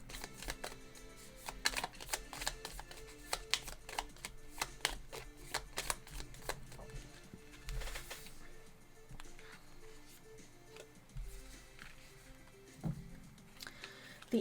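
Tarot cards are shuffled in soft, repeated riffles and slaps, quiet and close, with irregular bursts of crisp card noise across a long stretch.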